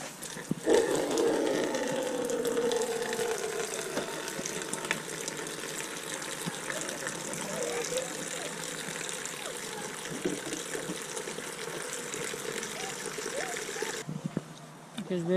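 Water runs steadily into a bowl for thirsty puppies, a continuous gushing pour lasting most of the moment before stopping abruptly, with people talking over it.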